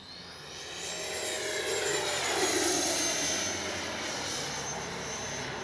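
An E-flite 90mm Viper RC jet flies overhead with a steady, loud ducted-fan roar and high whine that swells as it passes nearby, then holds at a constant level, with no voices.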